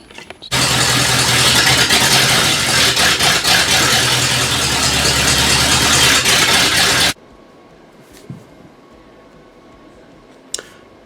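Ford Bronco being cranked: the engine catches and runs loud and steady for about six and a half seconds, then cuts off, leaving quiet background with a couple of faint knocks.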